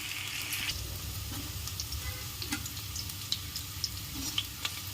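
Chopped onions and green chillies sizzle steadily in a pan while upma is being made, a soft continuous frying hiss with a few faint ticks and clinks near the end, and no talking.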